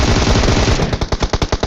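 Rapid automatic gunfire in a battle royale video game, a close, loud burst of sharp repeated shots that grows into a distinct stuttering rhythm of about a dozen cracks.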